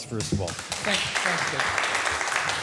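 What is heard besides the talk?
audience round of applause for speaker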